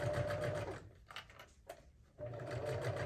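A sewing machine stitches a bag in two steady, close bursts of rapid mechanical whirring, with a short quieter pause in between.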